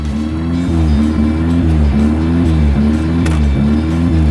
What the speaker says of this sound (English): I feel the intensity of this engine wrapping up.